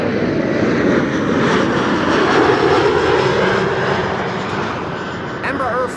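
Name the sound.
Embraer 175 airliner arriving from Brussels at Schiphol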